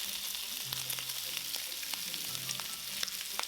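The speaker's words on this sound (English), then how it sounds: "Place in the garlic" Garlic stir-fries with pork belly for Filipino adobo, a close, steady sizzle broken by a few sharp spatula scrapes and clicks against the pan.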